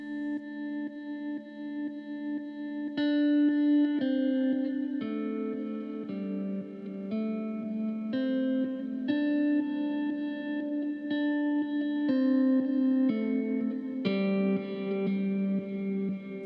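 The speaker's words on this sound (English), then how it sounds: "Microcosm in its full glory there on Mosaic 3." Microcosm-style Mosaic 3 effect from a Headrush MX5 multi-effects unit with built-in reverb, layered shimmering guitar notes repeating and overlapping in a steady, sustained wash, moderately loud and continuous with no talking.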